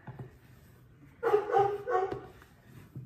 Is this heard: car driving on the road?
no